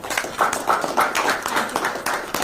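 A small room's worth of people gives a brief burst of steady clapping at a press meet honouring Preeti Jhangiani, light and close.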